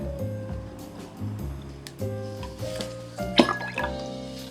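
A mixed apple, mirabelle plum and pear juice is poured and measured in small amounts, giving short liquid splashes and drips in several bursts with brief pauses between them, close and fairly quiet, without talk.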